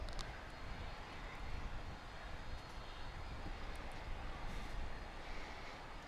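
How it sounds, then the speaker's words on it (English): A Japan Airlines Boeing 787-9 jet airliner roars steadily at an airport, a broad continuous engine rumble at moderate distance that holds without a break, with no talk over it. "There you see in the foreground Japan Airlines Flight 6713 on its way back to Narita Airport in Tokyo."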